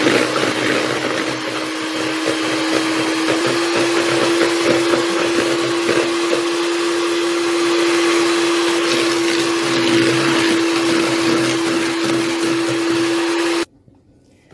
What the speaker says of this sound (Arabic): دابا حيت معايا الباطوكي خدامه اللي سمعوني